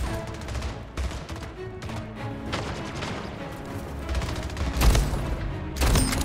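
Gunfire from a sniper rifle in the video game Splitgate, sharp shots cracking over busy game noise, with several loud bangs toward the end.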